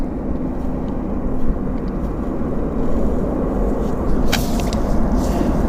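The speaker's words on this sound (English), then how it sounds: "We got a CRJ about to touch down" A CRJ jet comes in to land at Vancouver airport, a broad steady engine roar and rushing air heard from a distance, loud and constant with a few faint clicks near the end, no talking.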